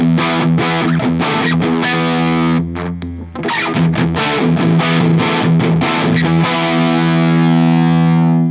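Electric guitar played through a valve amp with no Mary Cries pedal in the chain, a loud, thick distorted tone with sustained chords and busy picked riffing, briefly thinning midway before returning full.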